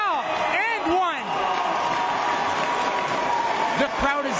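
A university basketball crowd cheers and applauds after an and-one play, a steady roar with whoops, while a commentator talks over it.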